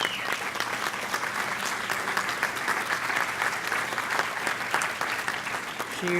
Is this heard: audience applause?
yes